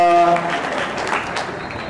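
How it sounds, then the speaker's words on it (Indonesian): Applause for a guest at a film festival in Bandung, a dense, steady wash of clapping from a crowd that starts loud and eases slightly, with a few tonal voice traces near the start. "tepuk tangan untuk beliau"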